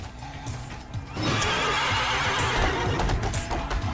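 A loud horse neigh from the video game Devil May Cry 3 rings out over a busy, noisy background, with a brief whinny rising after a second and holding through the rest.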